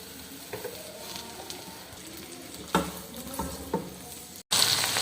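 Tomato, onion and green chili sizzling in hot oil in a pan while being stirred, a steady crackling hiss with occasional scraping stir strokes, close and loud, with no talk.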